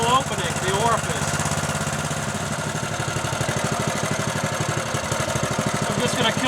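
A Honda 4 to 6.5 hp small engine runs steadily at close range with a fast, even putter and a loud, constant drone, while someone talks over it.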